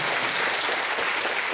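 A conference audience at the YAPC::Asia Tokyo 2013 opening applauds in a dense, steady wash of many hands clapping at once, loud and sustained.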